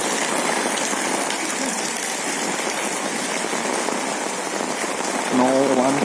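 Steady rain pours onto a surface in a continuous dense hiss, and a voice briefly cuts in near the end.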